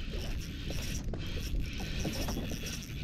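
A fishing reel's drag clicks in a rapid ratcheting burst as a hooked fish pulls line, close and fairly quiet over outdoor background noise.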